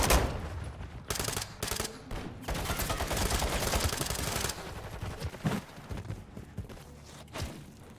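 Video game gunfire rattles in dense automatic bursts, loud rapid volleys cutting in and out, then lighter scattered shots and thuds trailing off toward the end.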